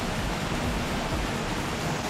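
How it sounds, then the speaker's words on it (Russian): Steady broadband rush of a waterfall in summer at Pylypets in the Carpathians, continuous and close, with no voices. "По своей давней традиции я пью из водопада."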